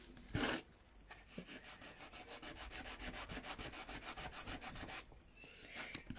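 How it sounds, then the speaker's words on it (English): Sandpaper is rubbed by hand over painted wooden décor in quick, even back-and-forth strokes, a soft rhythmic scratching that follows a brief louder scrape and stops abruptly near the end. "I'd like to make it more pale with and more worn with the sandpaper"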